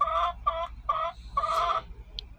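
Chickens cluck in repeated short bursts inside a backyard coop converted from an RV, four close, loud phrases in a row with a pause before a faint final note.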